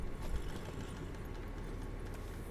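Horse hooves clip-clopping in The Witcher 3, a steady run of soft, even hoofbeats at moderate distance, continuous throughout with a low ambient bed beneath.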